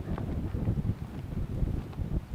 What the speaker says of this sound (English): You can hear and see the wind